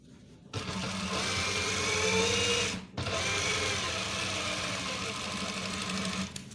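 Sewing machine stitching a trouser seam from the reverse side on police-uniform pants, a steady continuous motor whir running loud and close, with one brief stop near the middle before resuming.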